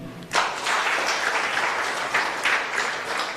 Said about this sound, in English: And an exceptional round of applause to the First Lady